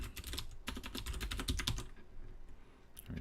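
Rapid typing on a computer keyboard during programming work, a dense run of close, crisp key clicks that thins out after about two seconds into a few scattered taps.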